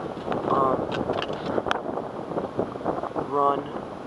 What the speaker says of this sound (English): It's really windy out right now.